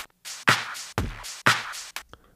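Ableton Live 12's Roar effect set fully to the direct signal processes a short loop, with four punchy bursts of drum hits and bright noisy transients separated by brief gaps, loud and close with no talking.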